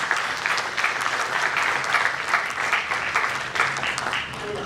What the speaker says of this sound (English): Just give them a round of applause for that.